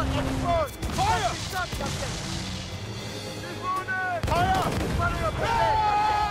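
Ship cannons fire in the Assassin's Creed Freedom Cry video game, a few heavy booms scattered through the stretch under game music and crew voices shouting orders.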